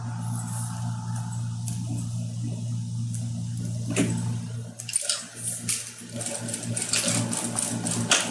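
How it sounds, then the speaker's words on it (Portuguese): A sewing machine hums steadily while stitching fabric, then gives way to a busier burst of clicks and rattles near the end, with no talk. "3 pontinhos para frente, 3 pontinhos para trás e inicia a costura."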